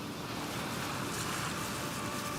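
Ocean surf rolling onto a beach as a turtle hatchling heads for the water, a steady broadband wash of waves with some wind noise, continuous and fairly close, no voices.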